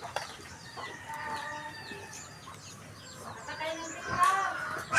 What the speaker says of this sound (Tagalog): Ari ang namumupog na manok